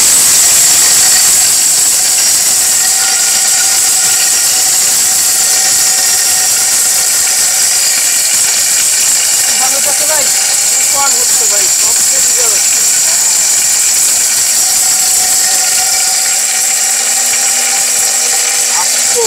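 A mixer grinder runs at full power, a loud, steady whirring roar that holds unbroken throughout, with a faint voice briefly audible beneath it.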